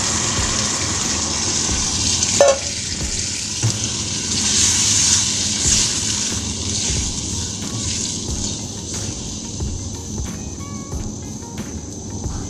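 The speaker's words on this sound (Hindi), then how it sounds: "ये अब इसमें पानी डालते हैं, ये गल जाए अच्छी तरह सारी सब्ज़ी।" Water poured into a pot of mixed vegetables for vegetable rice in a home kitchen, a steady gushing rush with a few clinks of the pot, continuous and fairly close, with no talking.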